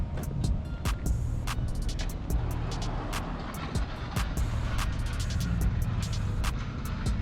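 A BMW E36 328i with a single exit exhaust idles nearby with a steady low rumble, overlaid by scattered sharp clicks and ticks.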